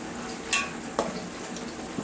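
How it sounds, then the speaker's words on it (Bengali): Chickpeas frying in a pan are stirred, with a couple of sharp spoon scrapes and clinks against the pan over a soft, close sizzle. "আমি বুটগুলোকে 5 মিনিট পর পর নেড়ে দিচ্ছি"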